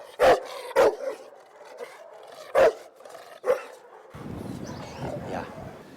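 Retriever and Labrador dogs at a security company, a few sharp separate barks with pauses between, followed by a softer rough noise at the end.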